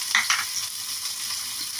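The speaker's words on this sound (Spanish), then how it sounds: "Le echamos la cebollita." Chopped onion frying in a pan as the base of a broccoli stew, a steady close hiss of sizzling with a couple of brief stirring scrapes near the start, no talking.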